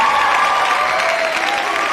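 A studio crowd at a live Green Bay Packers clubhouse show applauds steadily, a dense, even wash of clapping that holds at a loud level the whole time.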